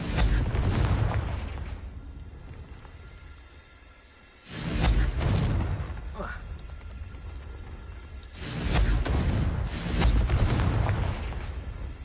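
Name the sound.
Confringo fire curse blast, from video game Hogwarts Legacy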